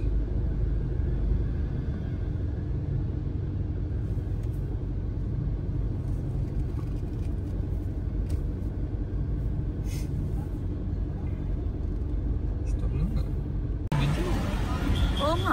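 Low rumbling road traffic near an airport pickup bay, cars idling and moving with faint air-brake hisses, steady throughout, with voices talking over it and a brighter burst of noise near the end.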